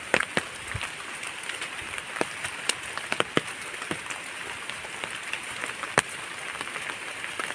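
Scattered sharp taps and drips over a soft steady hiss of heavy rain falling on leaves and ground in a forest, fairly quiet with no voices.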